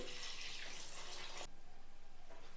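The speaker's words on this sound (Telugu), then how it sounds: "ఒక 2 సార్లు నీళ్లు మార్చి శుభ్రంగా కడిగేసుకోవాలండి." Water splashes and swishes as amaranth leaves are washed, a rushing wet sound that drops to quieter sloshing midway, close by.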